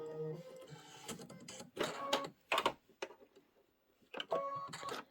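A computerized embroidery machine stitching a tack-down line on a quilted rain boot appliqué, quick mechanical rattling bursts starting and stopping in irregular runs with short quiet gaps, close and clear.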